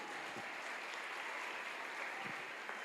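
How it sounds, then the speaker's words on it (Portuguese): A church congregation at a regional worship service, Arca de Noé in Quintino Cunha, applauds in a steady, even wash of clapping for a few seconds, fairly faint and without distinct individual claps. "A igreja do Senhor aplauda"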